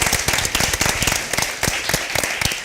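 Audience applause at the close of a music research podcast episode, a dense continuous patter of many hands clapping, steady and fairly loud throughout with no speech over it.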